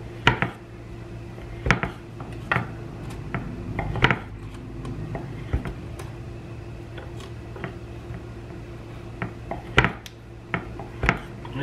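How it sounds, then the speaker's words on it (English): Knife chopping pieces of leftover smoked brisket on a cutting board, a series of sharp irregular knocks, some clustered and some spaced apart, close up over a low background hum, no talking. "Now you could chop up the pieces of brisket however thick you want it"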